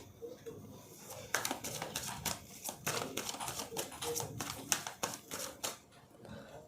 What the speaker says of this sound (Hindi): मैं कार्ड रख दूँगी, 3 कार्ड्स निकालूंगी